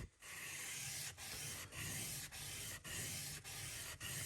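An oboe reed knife is being sharpened by hand, giving a steady dry rasping scrape in repeated strokes about every half second, close and fairly quiet, with no voices.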